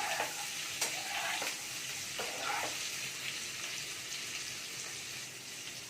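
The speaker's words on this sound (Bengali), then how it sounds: "তুলে নিয়ে ওই তেলেতেই ফুলকপিগুলো একটু ভেজে নেব।" Cauliflower florets frying in oil already used for potatoes, a steady crackling sizzle with several sharp clinks and scrapes of a spatula stirring the pan, close and alone with no talk.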